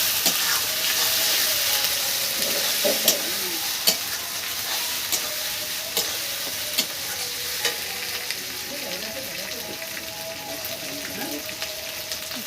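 Cumin seeds sizzle steadily in hot oil with chopped onion and garlic as a home cook prepares a meat curry, with a spoon clinking and scraping the pan several times over the continuous close frying hiss.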